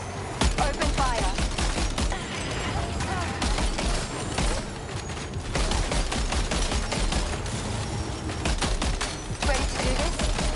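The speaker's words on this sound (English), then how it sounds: "Open fire." Dense rapid gunfire in the game Death Stranding 2, sustained automatic bursts and overlapping shots running almost nonstop, loud and close, with voices under the shooting.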